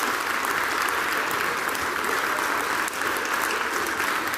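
An award ceremony audience applauds in a dense, continuous clapping that stays loud and even throughout, with no voices standing out above it.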